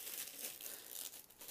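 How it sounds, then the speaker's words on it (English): A plastic protective bag holding an Occipital 3D scanner part is handled, giving quiet, close crinkling and rustling in irregular bursts with no talking. "The main part that's ordered is in a nice plastic bag for protection"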